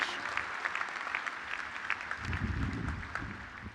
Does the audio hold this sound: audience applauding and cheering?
yes